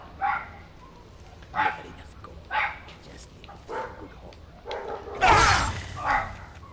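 A dog barks repeatedly in Skyrim Anniversary Edition on PS5, short sharp barks spaced about a second apart, then a louder burst of combat noise near the end, with someone talking quietly over it at times.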